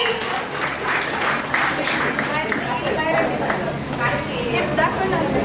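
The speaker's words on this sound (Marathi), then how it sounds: "जोरदार टाळ्या" A crowd at a baby shower claps in a dense, sustained burst of applause, with people talking and cheering through the clapping.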